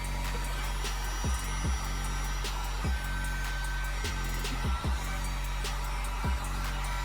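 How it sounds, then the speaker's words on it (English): A heat gun warms a sole shield on a shoe, giving a steady, close blowing drone throughout, with occasional soft clicks and taps over it. "Get your heat gun and start heating up these areas"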